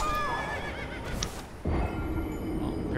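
A horse neighs in the Elden Ring video game, a loud whinny rising over game ambience, followed by a sudden surge of thudding movement and hoof noise.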